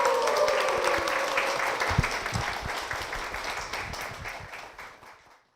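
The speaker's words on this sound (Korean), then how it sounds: "그리고 남편 박재일 권사님이 나와 계십니다. 박수로 모시겠습니다." A church audience applauds to welcome a guest, the husband of a church deaconess. Full, close clapping starts strong, tapers off gradually and ends in silence.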